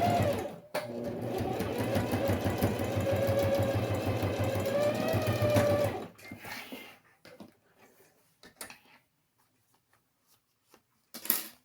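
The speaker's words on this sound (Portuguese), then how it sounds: "porque a costura aqui agora é para prender o material, eu faço ela mais na bordinha" Sewing machine stitching a fabric pencil case, a steady fast mechanical whir for about six seconds, then stopping, followed by scattered handling clicks and rustles of fabric.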